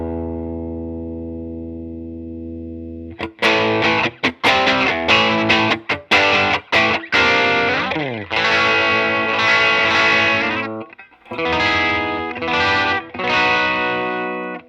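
An electric guitar played through a RAT distortion pedal at low gain: a sustained tone first, then a run of choppy, muted chugs and picked notes leading into ringing, gritty chords, loud and close with no talking.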